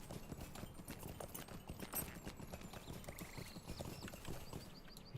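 Horse hooves in the online game LoTRO clip-clop in a steady, quick rhythm, close and fairly quiet, with a brief whinny-like tone partway through and no talk over it.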